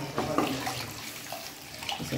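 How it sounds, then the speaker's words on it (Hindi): Water poured into a pan of cooked butter chicken masala gives a brief splashing, sizzling wash of sound, fairly soft and close. "अब इसमें पानी डालूंगा"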